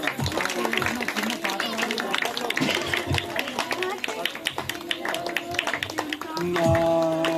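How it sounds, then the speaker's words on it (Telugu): A group claps for a Christmas cake cutting at a fellowship programme, scattered uneven hand claps tapping along over a few seconds amid chatter and murmuring voices, swelling slightly toward the end. "కేక్ కట్ చేస్తున్నాం, అందరూ చప్పట్లు కొడదాం అందరూ కూడా."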